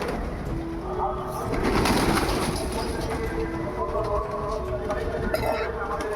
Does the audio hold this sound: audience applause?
no